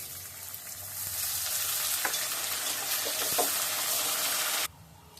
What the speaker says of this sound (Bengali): প্রথমে একটু আলুটা ভেজে নিই তারপরে পেঁপেগুলা দেবো